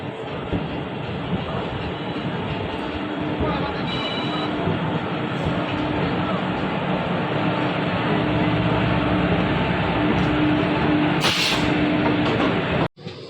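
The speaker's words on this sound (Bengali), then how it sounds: "চেন্নাই স্টেশন ছেড়ে ট্রেন ছাড়লো, ঠিক 8:55 ট্রেন ছাড়লো।" A train rumbles steadily as it departs Chennai station, with a continuous low roar and faint rattling of carriages; a brief click near the end.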